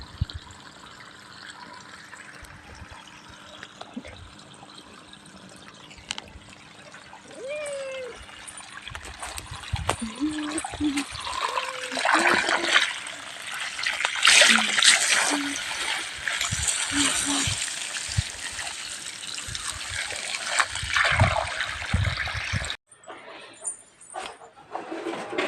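Water runs and splashes during house cleaning, a steady trickle that swells into louder gushing with a few clinks, while a voice talks over it and the sound briefly cuts off near the end.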